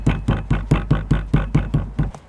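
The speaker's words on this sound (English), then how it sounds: "I'm just gonna tap to release any of extra air bubbles." A plaster mold being tapped to knock out air bubbles: about ten quick, evenly spaced dull knocks in a steady rhythm, close and fairly loud, with no talking.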